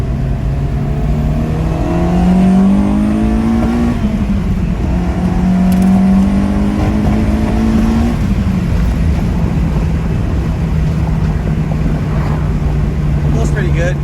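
A K24-swapped Acura RSX Type S engine revs up and down twice in quick swells, then settles into a steady drone, with someone talking over it.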